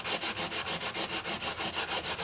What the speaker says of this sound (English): you want to give a light sand. You don't want to press so hard.